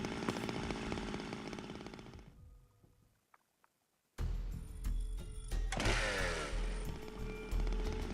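A chainsaw in the video game Zero Time Dilemma roars loudly and continuously, cuts off into near silence, then revs back up at full volume with grinding, mechanical layers.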